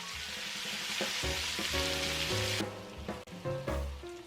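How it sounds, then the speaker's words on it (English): Butter, garlic and onion sizzle in a pot for a beef stew, a close, steady hiss of frying broken by scraping stirs and light clinks, with no one speaking. "Add the butter, garlic, and onion. Cook until caramelized."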